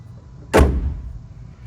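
A car door on a 2000 BMW Z3M Roadster, Estoril Blue, shuts with a single solid thud, close and loud, that fades quickly into quiet.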